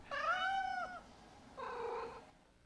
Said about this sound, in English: that's actually my cat meowing